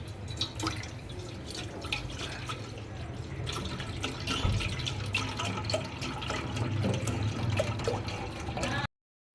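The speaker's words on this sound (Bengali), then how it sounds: "পাত্রের মধ্যে দুধটা ঢেলে দেবো" Milk poured from a bag or carton into a cooking pot on the stove while making caramel mishti doi, a steady close trickling and dripping liquid stream running unbroken for several seconds.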